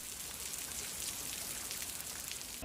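Heavy rain pours steadily during a winter storm in Los Angeles near the Hollywood-Burbank Airport, a dense, even hiss of drops striking surfaces with no voices, constant and fairly loud throughout.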